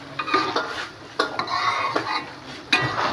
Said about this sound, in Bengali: আলুটা কষাইতেছি রাখছি